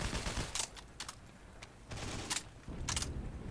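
Grease gun submachine gun fire in the WW2 shooter Heroes and Generals. Short bursts of rapid automatic shots crack out over a steady background of battle noise.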